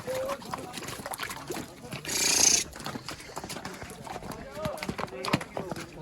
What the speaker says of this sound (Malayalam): നോക്ക് നോക്ക് കുതിര കുതിര കുതിര